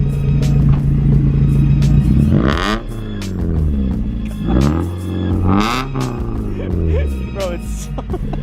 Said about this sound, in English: can we get some revs for the video